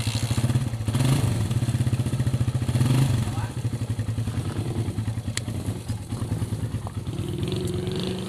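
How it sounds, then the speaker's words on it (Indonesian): A motorcycle engine idles with a steady, rapid putter, close and fairly loud, with a slight rise in revs early on and some clattering. "Oke, motor udah nyala"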